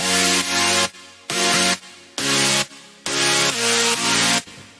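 Future bass synth chords, a bright, dense stack that plays alone in loud sustained stabs of about a second each, with brief dips between chord changes.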